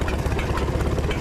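An engine idles in a steady, dense rumble with a rough, knocking pulse, heard close and loud and uninterrupted for about a second.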